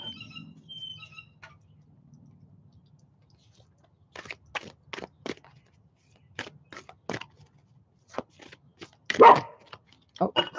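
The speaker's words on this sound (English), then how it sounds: "Oh, sorry about my dogs." Dogs barking indoors in short, sharp bursts that come in irregular clusters, moderately close and growing louder toward the end, with quiet stretches between them.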